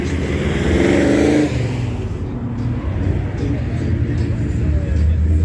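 A classic Porsche air-cooled engine, the same one shared with the VW Beetle, revs up and then settles to a throaty idle nearby, with a voice talking over it.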